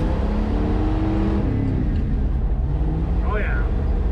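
A 1968 GMC truck with an SM420 four-speed gearbox pulls and accelerates, its engine tone rising and then dropping through a gear change. The steady loud drone has speech over it.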